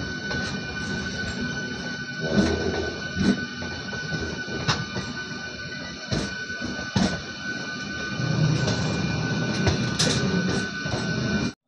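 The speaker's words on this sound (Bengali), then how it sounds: "রীতিমতো এখানে ট্রেনের রেস চলছে, বুঝতে পারছি না কি হচ্ছে।" A passenger train running on the line toward Kharagpur, heard from inside as a constant rolling rumble with rhythmic wheel clatter, sharp clicks at rail joints and a faint high whine.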